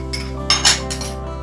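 A spoon clinking against a bowl while mixing spices for Indian katori chaat, a few light metallic taps over a low steady hum.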